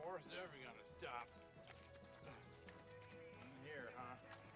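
A horse gallops in a Wild West comedy scene, with rhythmic hoof clip-clops and neighing heard under and between loud talking voices.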